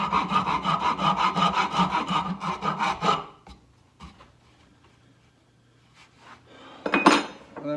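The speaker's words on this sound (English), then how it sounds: "for the fine tuning, the rasp seems to be what it wants to do" A rasp files rattan for a padded SCA practice sword in quick, rhythmic back-and-forth strokes, close and loud for about three seconds, then falls quiet before a short, harsher burst of scraping near the end.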